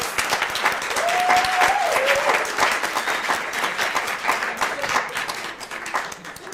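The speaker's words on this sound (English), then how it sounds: "let's give them all a big round of applause" Audience applause at a DEI certificate ceremony for graduates, a dense, sustained round of clapping from a crowd in a hall that gradually thins out toward the end.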